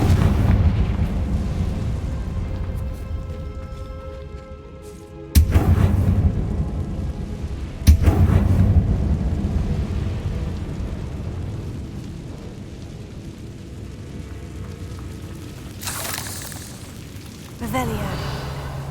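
Blasts from the Confringo fire spell in Hogwarts Legacy: two sharp booming bursts roughly three seconds apart, each with a rumbling tail, over steady game ambience and music, followed later by a softer burst.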